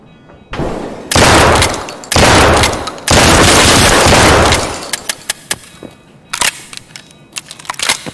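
Heavy shotgun blasts boom in long, loud bursts during a firefight in the shooter Escape from Tarkov, then trail off into scattered, quieter single shots.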